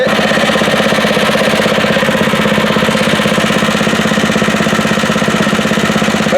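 A Stinger lawn aerator's engine runs loud and close with a steady, rough mechanical chug, pulling plugs from the turf during a lawn renovation.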